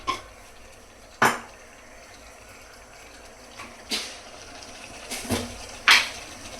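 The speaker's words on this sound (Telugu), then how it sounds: "ఇప్పుడు ఇది మొత్తం ఒకసారి మిక్స్ అయ్యే విధంగా కలుపుకుందాం" A spoon stirs turmeric and other ingredients in a pressure cooker for mutton curry, making several sharp, irregularly spaced metallic clinks against the pot over a quiet background, with no talking.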